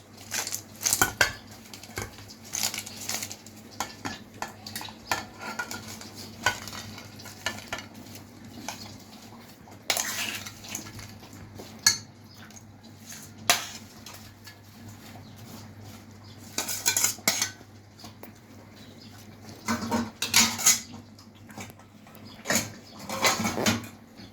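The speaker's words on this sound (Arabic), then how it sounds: "هنقلب كده حلو تقليبه" Fried potatoes, eggplant and peppers are turned over in a dish for spicy moussaka, with irregular clinks and scrapes of a utensil against the dish coming in clusters over about twenty-four seconds.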